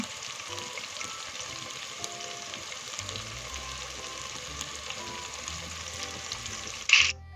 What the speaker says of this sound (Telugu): అల్లం వెల్లుల్లి పేస్ట్ వేసుకుని మంచిగా వేపుకోవాలండి